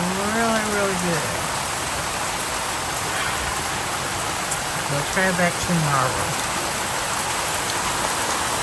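Heavy rain pours down outdoors beside a home patio, a dense, steady hiss of drops that runs unbroken throughout while a person speaks briefly over it.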